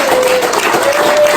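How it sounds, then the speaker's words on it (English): Brief burst of audience applause honoring a grandmother at a comedy-style show, a dense wash of clapping with a steady tone running beneath and talk mixed in. "So can we give a round of applause?"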